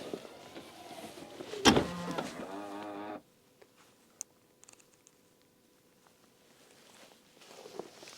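A used, high-mileage Tesla Model Y door is pushed shut with a single firm thud, preceded by a brief motorized whir, then near-quiet with a few faint ticks and rustles.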